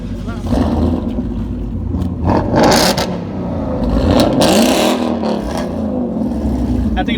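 A carbureted car engine at a car meet revs up and settles again, a loud rough roar with clattering and whirring under nearby voices.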